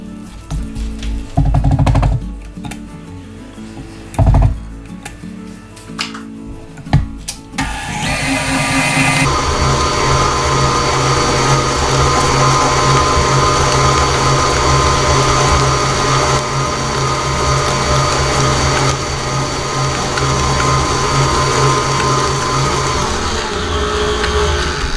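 An electric mixer whips the cream cheese layer for cheesecake brownies, starting with a few clattering bursts and then settling into a loud, steady motor whir that runs without a break and carries no talk.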